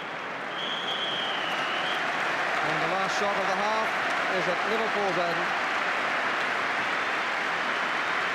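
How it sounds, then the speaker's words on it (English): Football crowd at the 1987 League Cup Final between Arsenal and Liverpool, applauding at half time: a broad, sustained wash of clapping from a large stadium audience, with a commentator speaking over it. "the crowd applauding an excellent 45 minutes"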